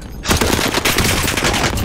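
Gunfire in the video game Call of Duty Modern Warfare starts abruptly and continues as a loud, rapid automatic burst with no pause.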